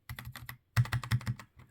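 Typing on a modded mechanical keyboard, striking the spacebar and S key: two short bursts of crisp, clacky keystrokes, about four quick presses, a pause, then five more, close and alone.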